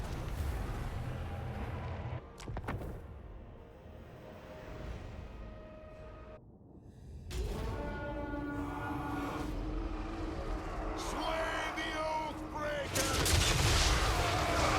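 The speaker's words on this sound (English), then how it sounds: "The flame cannons all firing at the same time" Dwarf flame cannons fire together in a Total War: Warhammer 3 battle, a volley of booming blasts and roaring bursts over a rumbling battlefield, building louder toward the end.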